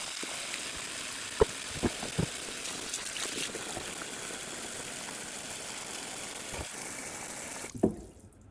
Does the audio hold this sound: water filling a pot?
yes